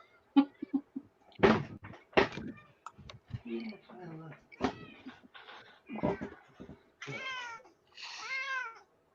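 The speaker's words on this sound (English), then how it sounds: "Oh, the kitty." A cat meows several times in a row, the later calls drawn out and wavering, interspersed with clicks and knocks from a quiet room.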